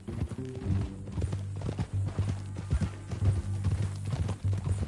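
Horse hooves clip-clop in a steady walking rhythm in Red Dead Redemption 2, close and fairly loud over a low rumbling game background, with an occasional faint snort.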